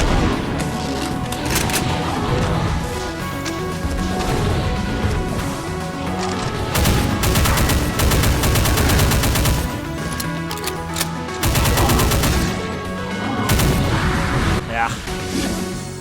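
Heavy rapid blasts and crashing explosions from a Behemoth's rocket launcher in the Doom 2 UDMF mod BREAK POINT, loud bursts repeating in clusters over a busy game soundscape.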